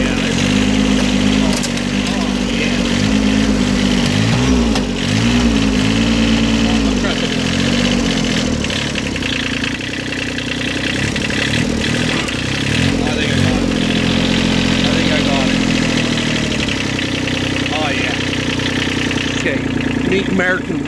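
A Japanese tractor's engine runs close and loud, a steady mid-pitched diesel chug that wavers slightly in speed throughout while people talk over it.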